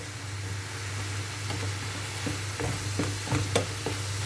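Vegetable oil frying in a pan during a home-style breakfast preparation: a steady soft sizzle with a low hum beneath, broken by a few light scraping stirs toward the end.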